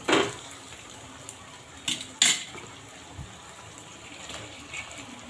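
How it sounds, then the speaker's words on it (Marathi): Moth beans tipped into a cooked masala in a pan and stirred, a wet clatter at the start and a couple of sharp metal scrapes and knocks over a faint sizzle. "आपण यामध्ये आता मटकी घालून घेऊ"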